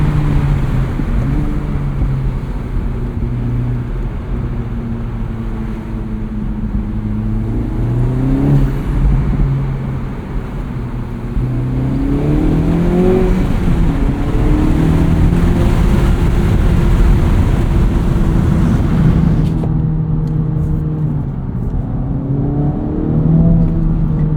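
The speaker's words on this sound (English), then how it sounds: "those burbles and pops make it exciting around a parking lot" A 2024 Acura Integra Type S engine rumbles close by, its pitch rising and falling with revs, giving a low, throaty exhaust burble with pops throughout.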